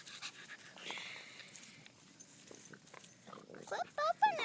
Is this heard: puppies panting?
yes